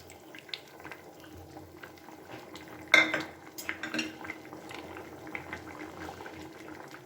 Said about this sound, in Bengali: দিয়ে ভালো করে নাড়াচাড়া করে আমি এবারে নামিয়ে নেব।